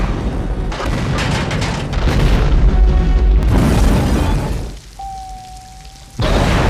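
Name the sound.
elevator explosion in the film Die Hard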